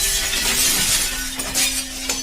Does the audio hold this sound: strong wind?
no